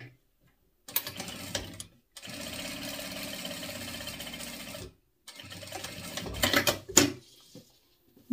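A sewing machine runs a finishing seam across a bag lining in three bursts of steady stitching separated by short pauses, the last burst speeding up before stopping; no talking.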